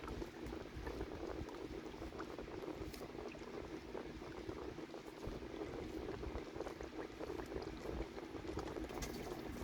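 Fabric conditioner mixture being stirred as it dissolves in water, a continuous churning, sloshing wash of liquid with faint bubbling, steady and close for the whole stretch with no voices.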